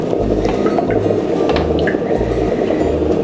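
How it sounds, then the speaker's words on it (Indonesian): Pempek batter is poured generously over kemplang crackers, making close, loud, wet squishing and glugging in a steady stream, with no voices. "Kita siram lagi dengan adonan dasar tadi agak banyak."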